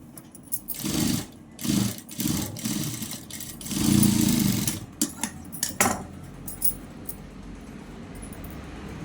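A sewing machine stitches cloth for a blouse in short, uneven bursts, each run lasting about a second with brief pauses between, close and moderately loud with no talking.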